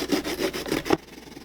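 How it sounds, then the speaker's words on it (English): Baby carrots are rubbed against a small hand grater in a kitchen. About five quick, rhythmic scraping strokes sound close and moderately loud, then stop into near quiet. "Now I'm going to use my little grating tool here, and we're just going to start working on these baby carrots."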